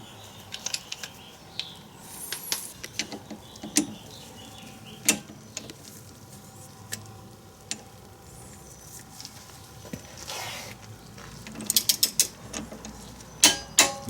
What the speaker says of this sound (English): We'll set the torque wrench to 20 foot-pounds